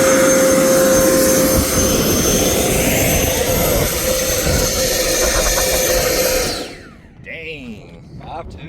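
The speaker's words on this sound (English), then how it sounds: "Again, this is a 40 millimeter diameter motor and 40 by 75 and a metal fan shroud." A 90mm electric ducted fan on a Freewing F-16 thrust test rig roars loud and steady with a jet-like whine, then spools down sharply near the end as a voice is heard.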